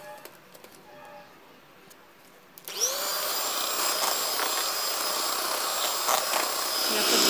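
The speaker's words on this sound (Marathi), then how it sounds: "पुन्हा आपण एक बीटरने छानपैकी फेटून घ्यायचं आहे हे मिश्रण" An electric hand beater starts up around the three-second mark and whirs steadily as it whisks cake batter with butter for a tea-time cake, a loud continuous motor hum after a quieter stretch.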